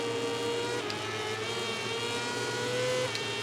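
Motorbike engine in MotoGP 18 held at a steady high-pitched whine through a corner on track, pitch rising and dipping slightly as the throttle is eased, loud and continuous with no talk.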